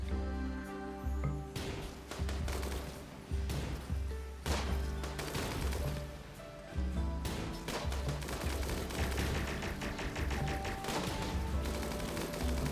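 Gunfire against an insect hive in RimWorld, rapid bursts of shots and thumping impacts repeating steadily over a constant background, with no talk.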